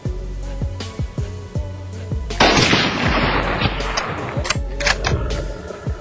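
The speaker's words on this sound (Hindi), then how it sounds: "शेर को स्पॉट करते ही उनमें से एक शिकारी पहला फायर कर देता है।" A hunter's rifle fires on safari in old, low-quality footage: one loud, sharp crack with a long noisy tail, heard over a steady rhythmic thumping that runs throughout.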